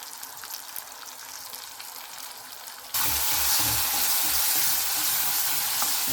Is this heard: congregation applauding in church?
no